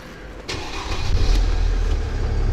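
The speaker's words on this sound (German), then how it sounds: "Start das Auto" A Mercedes-Benz car engine starts in a workshop during fault diagnosis of a Pre-Safe error: a click and cranking burst followed by the engine catching and settling into a low, steady idle, with no speech.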